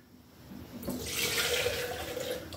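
Custom-mixed smoke grey Rustoleum paint pours into a large spray gun cup, a steady liquid splash that starts softly and swells into a continuous close pour.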